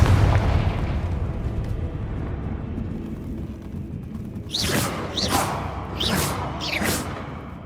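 Confringo fire spell in Hogwarts Legacy gameplay, cast several times in quick succession: four whooshing bursts near the end, over a rumbling game ambience.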